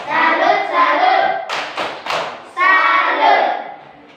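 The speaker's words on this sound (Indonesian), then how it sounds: "Berikan tepuk salut untuk kelompok 2" A primary school class performs a chanted clapping routine for a group of classmates, voices chanting in unison around a short burst of sharp, rhythmic hand claps in the middle.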